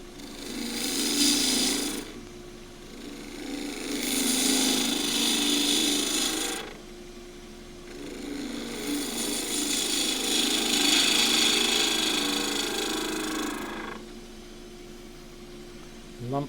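A Himalayan cedar goblet spins on a wood lathe while a tool cuts and shapes it, producing loud rasping passes that swell and stop repeatedly, with short quieter gaps between cuts.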